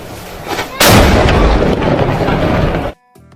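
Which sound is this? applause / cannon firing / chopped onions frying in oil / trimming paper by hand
cannon firing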